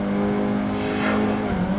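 A Lancia Evolution 7 race car engine in Project Gotham Racing 2 on Xbox holds a steady, loud revving drone, shifting pitch near the end with faint ticking above.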